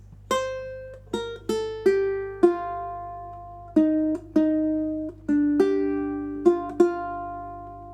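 A short plucked melody on ukulele, about a dozen bright single notes with quick decays, played alone at a moderate, slightly uneven pace.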